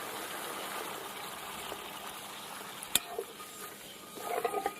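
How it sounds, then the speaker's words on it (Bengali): Masala fried down in oil, with water poured in so it bursts into a steady broad sizzling hiss and gush, with a sharp click near the middle and bubbling rising at the end; no talking. "এই যে জল দিয়ে দিলাম।"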